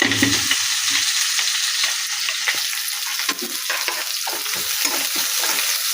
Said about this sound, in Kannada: ಸಾಸಿವೆ ಚಟಪಟ ಅಂತು ಮೆಣಸಿನ್ಕಾಯಿ ಮತ್ತೆ ಇರೋದು ಹಾಕ್ಕೊತಾ ಇದ್ದೀನಿ ಸ್ವಲ್ಪ ಚೆನ್ನಾಗಿ ಫ್ರೈ ಆಗಬೇಕು